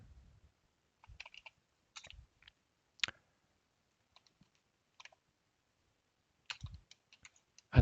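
Typing on a computer keyboard in a quiet room: short, sparse bursts of crisp key clicks with pauses between them, close and fairly faint.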